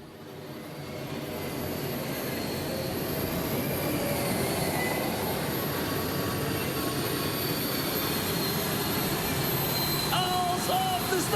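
The Russian Roulette pulling tractor at a tractor pulling event, its engine roaring at full throttle, building from quiet to a loud sustained howl that holds steady, with faint voices and a brief tone near the end.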